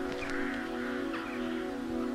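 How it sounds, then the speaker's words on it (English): A bird in Paratopic gives a couple of harsh caws over a steady droning ambient hum, moderately near. "oh, that was a bird."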